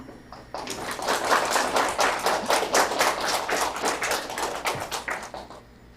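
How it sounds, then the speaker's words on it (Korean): An audience claps to welcome a lecturer onto the stage at a university talk event, a dense burst of hand claps that starts abruptly, holds steady and thins out toward the end, with no talking over it. "박수 부탁드립니다."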